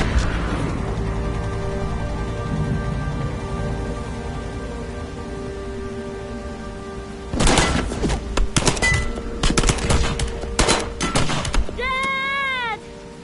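Gunfire in the video game Heavy Rain: after a long low drone, a cluster of sharp, loud shots rings out in quick irregular bursts, followed by a brief wavering whine.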